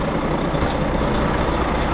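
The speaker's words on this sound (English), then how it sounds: "I think we've got a lift. It's this big fucking lorry." A big lorry pulls up beside a hitchhiker, its heavy engine a loud, steady close-range roar with a brief hiss like an air brake, and no one talking.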